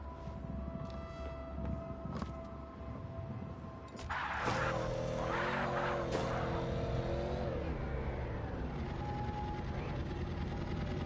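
A car in the video game MindsEye rumbles through city traffic, its engine surging louder midway as it accelerates with rising, wavering tones, over a steady background hum.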